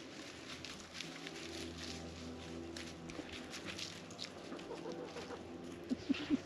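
Backyard chickens at an Alaska homestead in spring cluck softly in a steady low murmur, with a few sharper, louder clucks near the end and faint footsteps mixed in.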